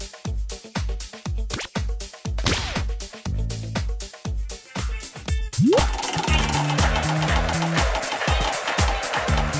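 Prize wheel in the TV Show King WiiWare game ticking around, a fast, regular run of clicks that gradually slows, while game music and jingles play loudly underneath.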